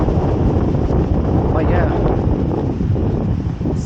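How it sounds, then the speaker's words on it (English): Heavy, constant wind buffeting the microphone with a low roar throughout, while a person speaks briefly over it. "oh, it's getting super windy."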